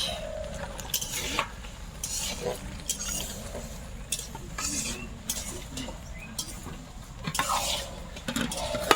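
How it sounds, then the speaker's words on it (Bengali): A sweet chutney of dates, cashews and raisins stirred in a pan for a large cooking batch, with repeated scraping of a spoon on metal and a light sizzle, while a voice talks over it. "নাড়াচাড়া করতে করতে এমনি গলে গেছে"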